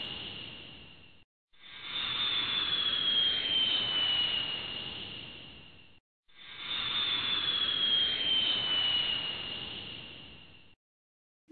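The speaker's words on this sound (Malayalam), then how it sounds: "നമ്മുടെ വീടിൻ്റെ മുകളിലൂടെ വിമാനം പോകുമ്പോൾ" Two airplane passes overhead, each a roaring jet-like rush that swells and fades with a descending whine, separated and followed by silence.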